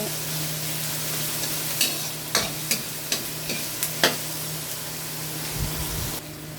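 Onion and garlic fry and sizzle in a pan for pork adobo, a steady hiss broken by several sharp crackles and pops as the pieces are stirred, close and alone with no talk.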